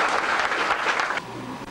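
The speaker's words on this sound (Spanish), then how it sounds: "Un fuerte aplauso." A crowd at a municipal award ceremony claps, a dense burst of applause that carries for about a second before thinning and fading into quieter room noise.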